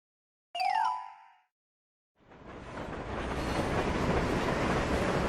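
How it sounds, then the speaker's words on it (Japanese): A train pulls out of a station in the mobile idol game Starlight Stage: a short bright electronic chime, a brief silence, then a broad rumbling roar of the departing train that swells and holds steady to the end. "ああ、電車が行ってしまいました。"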